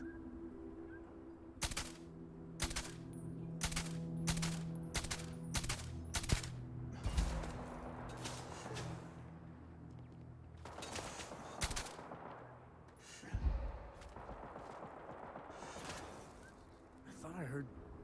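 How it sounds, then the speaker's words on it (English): Turrets firing in Starfield, a rapid string of sharp loud shots early on followed by scattered, more distant bursts of fire, with a voice talking over parts of it. "Turrets."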